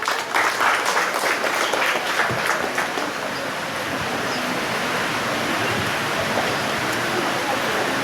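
Applause breaks out at a closing ceremony in Puerto Bermúdez for a departing doctor, a dense, steady clatter of clapping that stays loud and even for the full stretch with no voices standing out.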